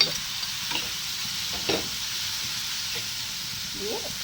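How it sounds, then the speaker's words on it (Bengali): Spices for an egg curry fry in a pan with a steady hissing sizzle and a few scraping stirs spaced across the clip, close up and without talk. "মশলা যখন মোটামুটি ভুনা হয়ে আসছে"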